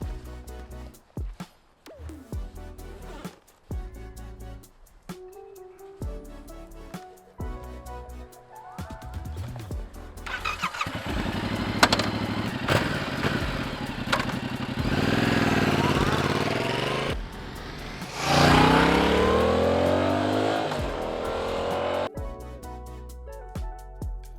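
Yamaha R7 sport motorcycle engine firing up and revving, with rising throttle sweeps and sustained loud engine roar building midway, after choppy bursts of music and talk at the start.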